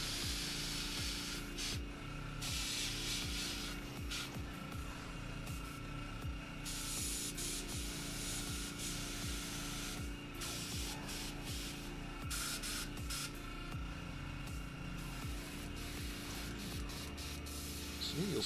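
Paint spray hisses steadily and close by as base paint goes onto a YF-21 model, a continuous airbrush-like rush interrupted by short pulses and brief pauses, with no talking.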